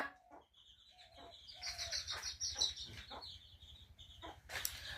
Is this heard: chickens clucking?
yes